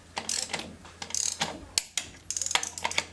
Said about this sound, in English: you can go ahead and torque it to spec.